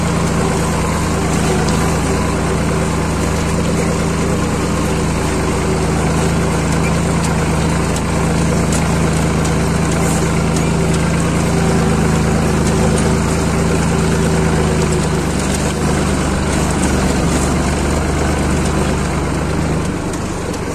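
A tractor engine idles steadily for about twenty seconds, a loud, constant low rumble with no voices over it, on a rainy day at a walnut orchard by a stream.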